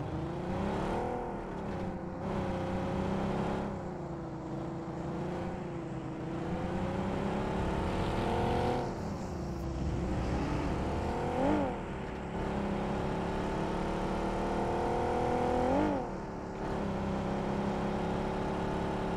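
A car engine in a video game runs steadily and close, its pitch rising and falling as it revs and approaches.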